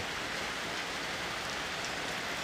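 Rain falls steadily at night in Thailand, a constant hiss of drops on surfaces, even and moderately loud, with no voices over it.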